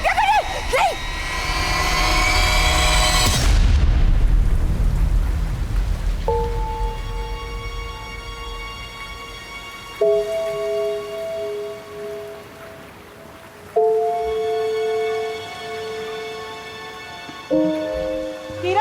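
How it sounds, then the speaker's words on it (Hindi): Heavy rain pours at night as a loud, dense, steady hiss for the first several seconds, then fades into a softer background under sustained musical tones and people talking. "बहुत बारिश हो रही है"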